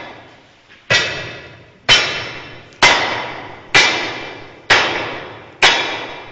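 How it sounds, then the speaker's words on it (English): A hammer strikes a jumper, a long iron drilling chisel, into slate in a cavern, six sharp ringing metallic blows at an even pace, each one decaying before the next, loud and close. "For drilling holes for busting at that time, the men would use this tool. It's called a jumper."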